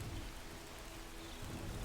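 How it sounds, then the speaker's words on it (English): Freezing Rain spell effect in the fantasy strategy game Age of the Ring, a steady hiss of falling rain with faint distant rumbling, quiet and continuous with no talk. "Freezing Rain, debuffing Mordor's troops is always a good time there."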